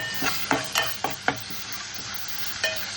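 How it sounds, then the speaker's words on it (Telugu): Ginger garlic paste fries with onions in a pan for a quail curry, a soft sizzle broken by several sharp scraping stirs of a spatula in a quick cluster, then one more stir, close by. "పచ్చి వాసన పోయేంత వరకు వేయించాలి"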